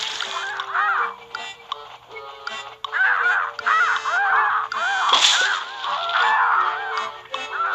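Seagulls squawk repeatedly in the video game Plants vs Zombies 2, a run of harsh, overlapping cries over steady game background sound.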